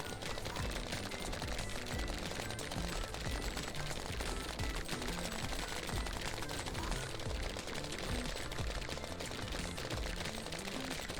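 Javelins fire in a horde survivor bullet-hell game amid a relentless barrage of rapid, sharp, gunfire-like impacts and crackles, dense and unbroken, with no voices.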